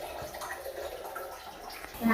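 Shower water runs steadily at a campsite shower room, a continuous soft hiss heard close, with a brief louder splash at the end.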